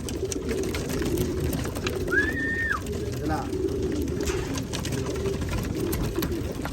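Soft bird cooing sits under a steady rush of wind or outdoor noise, with a brief higher call and a short spoken word.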